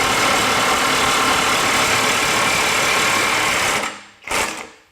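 A Kobalt XTR 24V high-torque impact wrench in speed mode 3 hammers with a dense, continuous buzzing rattle for about four seconds, cuts off abruptly, then gives one short final burst.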